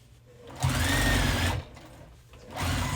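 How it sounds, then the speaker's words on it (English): A sewing machine stitches a tea bag wallet in two loud, close bursts of rapid mechanical whirring, separated by a short pause. "All right, let's sew it here."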